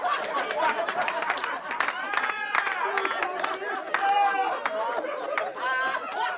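Crowd at a live comedy show clapping and cheering, dense overlapping claps with whoops and chatter mixed in, loud and close for several seconds.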